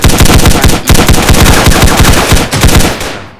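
Automatic gunfire in a shooting video game, a loud, close, rapid unbroken stream of shots with a brief stutter midway, cutting off abruptly at the end.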